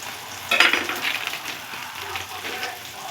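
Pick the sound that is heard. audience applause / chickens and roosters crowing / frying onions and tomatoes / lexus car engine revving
frying onions and tomatoes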